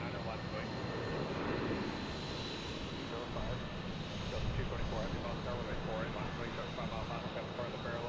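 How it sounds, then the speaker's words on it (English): A JetBlue Airbus A220 jet airliner at Boston's Logan Airport gives off a steady, broadband engine roar that holds at an even level for about eight seconds without a clear rise or fade. "Okay, we got a JetBlue here heading to Cleveland."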